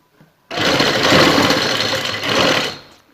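A sewing machine runs in one steady burst of stitching for about two and a half seconds, loud and close, sewing piping onto a garment neckline.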